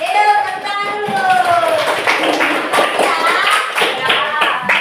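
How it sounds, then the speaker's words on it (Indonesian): A class of schoolchildren clapping together in a classroom, brisk sharp claps under a teacher's voice with a sung, rising vocal line at the start and children's voices mixed in. "Yuk, tepuk tangan dulu."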